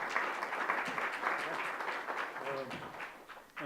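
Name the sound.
audience applause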